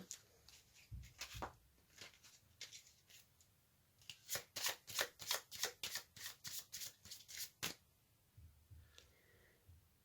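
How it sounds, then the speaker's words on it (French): Oracle cards being shuffled by hand before one is drawn: a burst of quick riffling snaps, each a sharp papery flick, about a dozen in close rhythm, following a few softer card rustles at the start. "Maintenant, je vais tirer une carte de l'oracle aromatique."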